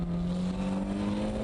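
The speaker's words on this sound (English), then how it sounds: "You have to keep revving it within the torque band." A car engine revs while drifting, a steady, fairly quiet droning hum holding one pitch for a short moment, with no voices.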